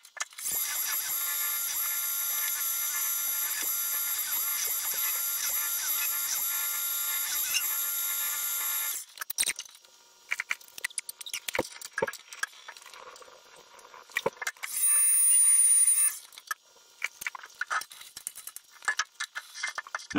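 A milling machine bores a half-inch hole out to one inch with a small boring bar, giving a steady, fairly loud whine for about nine seconds. It then stops, leaving scattered clicks, light mechanical taps and one short burst of machine noise.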